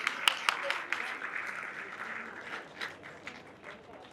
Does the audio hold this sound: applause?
yes